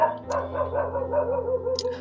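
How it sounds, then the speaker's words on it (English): A dog barks a few times somewhat distantly in the background, short yips over a low steady room hum with no talking. "Sorry for the barking at the background."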